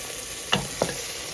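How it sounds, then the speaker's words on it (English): Spoon stirring a roux in a pan for ham and cabbage chowder, a soft steady sizzle with two quick scraping strokes close by, no talking. "let me get that stirred"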